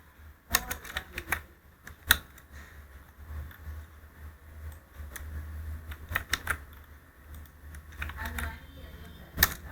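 Someone types on a computer keyboard, giving quiet irregular clicks and clusters of keystrokes with a few louder taps over a low steady hum.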